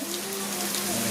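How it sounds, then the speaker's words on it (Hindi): Heavy rain pours down in a steady, dense hiss that fills the whole moment without a break, with a faint low hum beneath it. "खूब बारिश हो रही है।"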